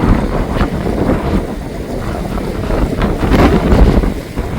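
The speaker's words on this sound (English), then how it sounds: "And now the wind is picking up a little bit." Wind blowing along the Indian Ocean shore, a steady broadband rush with gusty swells and buffeting against the microphone, loud and continuous, with no talking.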